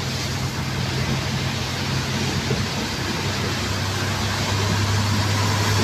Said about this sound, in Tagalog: Lakas ang ulan yan, no?